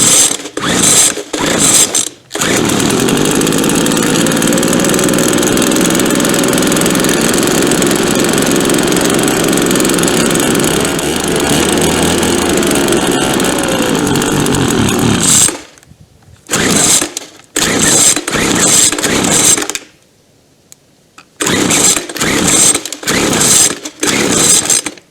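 A McCulloch leaf blower that sat unused for nine years roars steadily at close range for about thirteen seconds after a few short pulls and sputters, then dies back into intermittent bursts and short restarts.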